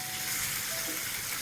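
Duck meat sautéing in a pan, being stirred and browned until it releases its oil, giving a steady, close, low-level sizzle and frying hiss throughout with no talking.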